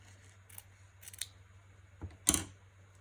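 Scissors cut through blue fabric in a quiet room, a few faint snips followed by one sharper, louder close snip near the end.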